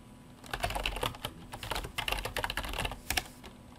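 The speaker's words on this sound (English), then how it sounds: "We're going to type all the boundary conditions here." Typing on a computer keyboard while entering boundary conditions into MATLAB: bursts of close, crisp key clicks in an uneven rhythm, with short pauses between clusters and no talking.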